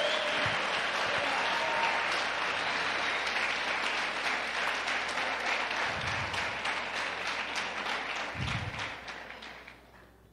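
Sustained clapping from a church congregation at a Sunday family service fills the space, a thick, continuous patter that holds for around ten seconds before thinning and fading toward the end, with a few soft low thumps.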